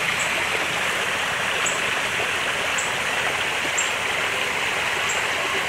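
Steady rushing of flowing water in a koi fish pond at a zoo, a continuous broadband wash with faint bird chirps recurring overhead, no talking.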